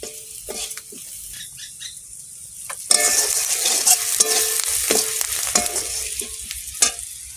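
Turmeric, chili powder and dried chili frying in a pan, a steady sizzle that swells louder partway through, with the scrape and clatter of a spoon stirring throughout, close up with no talking.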